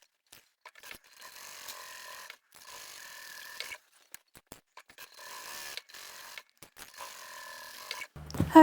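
Sewing machine stitching the lining seam of a fabric bag or pouch, with backstitching at the start and end and triple stitching, in several mechanical runs with short pauses between, close and alone.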